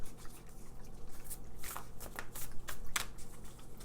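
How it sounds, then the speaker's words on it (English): An oracle card deck is shuffled by hand, giving a run of soft riffling flicks and snaps, close and fairly quiet, with no talking. "We're going to go ahead and give her a shuffle."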